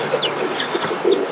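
Roller pigeons in a breeder's yard give a steady, soft cooing chorus, several birds layered together at close to middle distance over a constant outdoor hiss.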